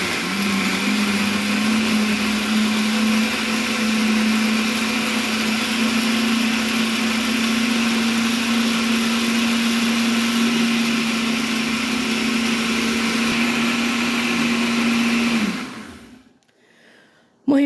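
An electric grinder whirs loudly and steadily on cake ingredients for about fifteen seconds, its high motor hum holding constant before winding down and cutting off, followed by near silence.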